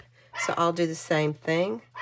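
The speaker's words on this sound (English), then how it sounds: "If you hear my dog barking, I apologize." A dog barks several times in quick yips and woofs at close range, mixed in with someone talking.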